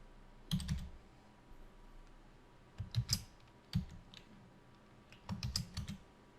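Computer keyboard typing while entering a fill color in Articulate Storyline 3 software: three or four short, quiet bursts of rapid key clicks separated by pauses, with no talking.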